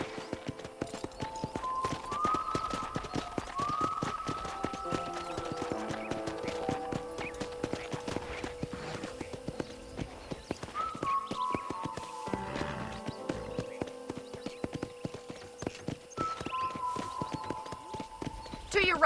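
Rapid hoofbeats in the video game Red Dead Redemption clatter steadily alongside faint tonal music, a horse moving at pace with quick, regular clip-clops throughout.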